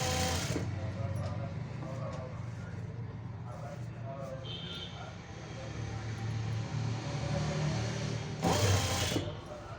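A sewing machine stitches piping onto a garment, a steady close mechanical hum running through the whole stretch, with a brief louder burst near the end.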